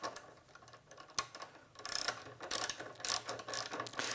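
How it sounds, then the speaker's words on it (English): A 3/8-inch ratchet tightens a bolt holding a rear trim piece on a 2014-or-newer Harley-Davidson motorcycle, with quick close clicking bursts and light handling noise, no talking. "I'm going to start getting this bolt to hold this trim piece down in the back here."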